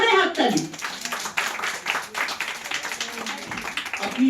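An audience at a Ghoti-versus-Bangal fish cooking contest claps for a third-place result, a steady patter of applause that fills the clip from start to finish.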